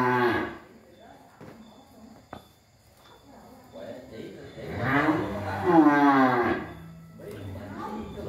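Farm cattle moo repeatedly, long lowing calls rising to a loud drawn-out moo in the middle, with someone talking over and between the calls.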